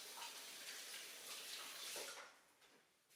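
Tap water runs steadily into a kitchen sink while hands are rinsed and wiped during pie-crust prep, a broad close wash that thins out and fades near the end.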